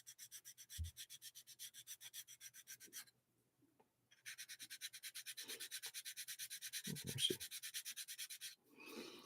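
Filler is being sanded back by hand, a steady rhythmic rasp of strokes in two long bursts separated by a brief pause, with a few faint knocks and shuffles between them; no one speaks.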